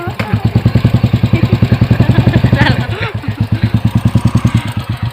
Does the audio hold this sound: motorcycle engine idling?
yes